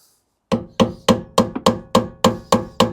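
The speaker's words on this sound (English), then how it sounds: "So I'm going to start with the normal hammer." About nine sharp metallic hammer strikes ring out in a steady rhythm after a short silence, each one loud and close.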